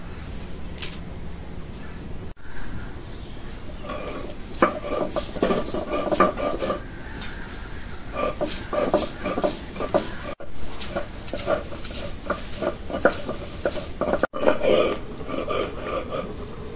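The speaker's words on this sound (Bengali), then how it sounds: "একদম মিহিন করে বেটে নিলাম।" Ingredients ground by hand into a fine paste on a grinding stone in a home kitchen, with a continuous rhythmic scraping and rubbing, close and fairly loud, with brief pauses.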